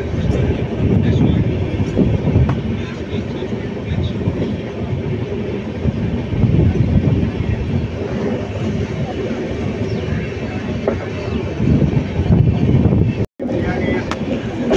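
A passenger train on the Salem to Bangalore route rolls into Dharmapuri station, a continuous loud rumble and rattle of carriages heard from on board, with voices underneath and a brief dropout near the end.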